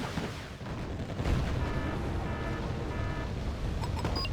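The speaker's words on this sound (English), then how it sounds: "firing the Mistrals off" Mistral missiles launching in Wargame: Red Dragon, a dense roaring rush of rocket fire and booming blasts that swells after the first second and stays loud and continuous to the end, with no speech.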